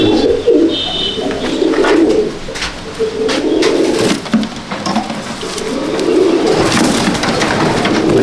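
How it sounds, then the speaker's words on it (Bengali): Old-line Madrasi breed pigeons coo steadily and close by, a layered, throaty murmur running through the whole stretch with brief flutters and chirps over it, no one talking. "এ তোমার অনেক পুরনো পায়রা, লাইন অনেক পুরনো লাইন।"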